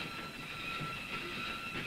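A freight train rolling into a 1960s city rail yard, steady rumble with faint wheel squeal and hiss at a moderate distance, no talking.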